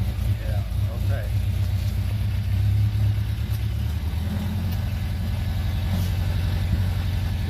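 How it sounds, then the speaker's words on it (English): An old car's engine runs after being started with a couple of pumps on the gas, a loud, steady low rumbling idle close by, with a voice talking over it. "Let's give a couple pumps on the gas, and let's see if it'll start"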